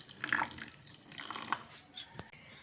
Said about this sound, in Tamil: தேவையான அளவு நல்லா தண்ணி ஊற்றிடலாம்.